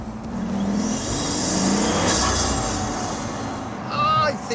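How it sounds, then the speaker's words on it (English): Pagani Huayra twin-turbo engine roars under load with its deliberately enhanced turbo noise, a steady loud drone from inside the car rising slightly, then a sharp whistling wastegate and induction flutter near the end. "Mr. Pagani knew that there's no way he could disguise the turbo noise, so what he tried to do was to try and enhance it"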